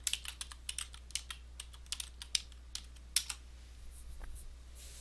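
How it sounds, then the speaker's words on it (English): Someone types a password on a computer keyboard: a quick, uneven run of close, crisp key clicks over faint room hum, with the pace slowing and softening toward the end. "gotta put in my password"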